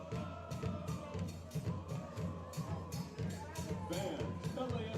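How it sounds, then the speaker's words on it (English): At an MLS Next Pro match between LAFC and Tacoma Defiance, a home crowd roars while drums pound a steady rhythm in the stands, heard at a distance under close commentary. "all those instruments in the stands are going wild"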